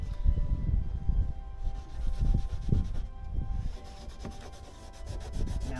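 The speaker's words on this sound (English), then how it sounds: "So it's going to need a little bit of this abrasive to just scrub that off." A boat part surface is rubbed with an abrasive in steady back-and-forth scrubbing strokes, close and moderately loud, with no talk.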